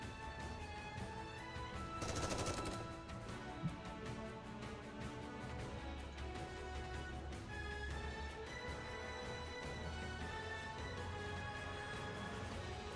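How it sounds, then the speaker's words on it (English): A barrage of gunfire in the video game Nikke, with a loud burst of rapid shots early on that then settles into continuous crackling fire under a busy, tonal game soundtrack. "Mori fires a barrage of bullets at Gluttony's battered body."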